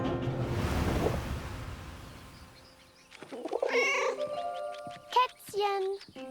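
A cat meows in the video game 11-11 Memories Retold, several short close calls coming after a wash of surf-like ambience, with a voice speaking in between.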